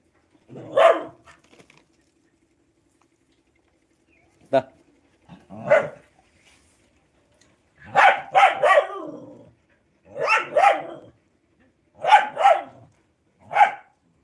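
A dog barks in short, sharp bursts at a house where a new pet rabbit has been brought home, the barks coming in repeated clusters with pauses between, fairly close and loud.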